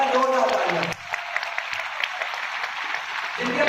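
Audience at an event gives a burst of applause that is loud at first, then drops away quickly to a thinner spatter of claps, with someone speaking over the opening moments.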